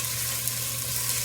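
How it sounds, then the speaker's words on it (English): Chopped eggplant stew ingredients sizzle and fry steadily in olive oil in a pan, a constant close hiss with a low hum underneath and no talking. "Hopefully you can hear me over the sizzling."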